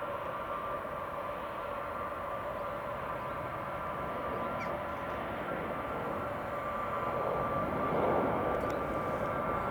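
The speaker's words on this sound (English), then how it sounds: "Oh, there's a plane taking off." A plane taking off at Arlanda Airport in Sweden, heard outdoors as a steady, broad jet roar that holds throughout and swells slightly toward the end, with no talk over it.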